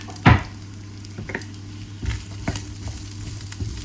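Homegrown garlic and leftover broccoli hit a hot pan, one sharp sizzling burst at the start, then quieter scattered crackles and stirring scrapes over a low steady hum.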